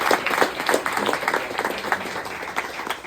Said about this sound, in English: can I get a round of applause for Doug